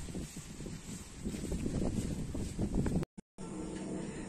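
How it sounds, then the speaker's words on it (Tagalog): Strong wind buffets a farm in Tagaytay as a steady broadband roar rushing over the microphone, cut off briefly by a short dropout near the end before resuming. "Malakas ang hangin."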